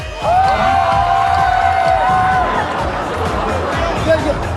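A studio audience on the TV show Eat Bulaga cheers and shouts loudly together, with a high sustained whoop rising over the roar of many voices.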